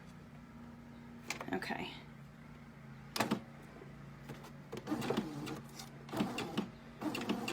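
A home sewing machine stitches quilt pieces together, its motor running in short separate bursts of mechanical whirring and needle chatter under a low steady hum, with a brief spoken word from someone nearby.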